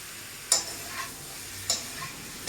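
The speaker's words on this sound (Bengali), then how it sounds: "এভাবে একটু আলুটাকে আর পেঁপেটাকে একসাথে ভেজে নিতে হবে।" Potato and papaya pieces fry together in oil with a faint, steady sizzle, punctuated by a few sharp, evenly spaced clicks of a spatula or utensil tapping the pan.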